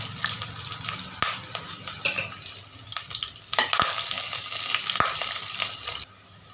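Chopped onion sizzles and crackles in hot oil, with intermittent clinks and stirring scrapes, steady frying throughout before it briefly quiets.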